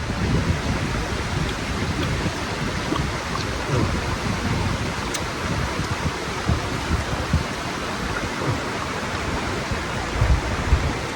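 Continuous rushing river water fills the whole clip at a riverside in the Philippines, a broad steady wash with small gurgles and splashes, fairly close, with no talking.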